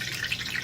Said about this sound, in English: You hear that noise? That's water in one of the onions.